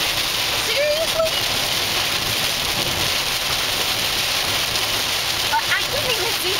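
Heavy rain pours steadily as a dense, continuous hiss, with faint voices and whistle-like sounds rising briefly over the downpour.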